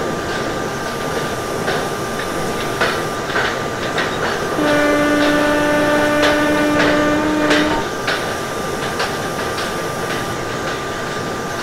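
Mumbai–Pune Intercity Express running in the Open Rails train simulator game, a loud steady rumble of rolling wheels with clickety-clack beats and a sustained horn blast mid-run, no talking.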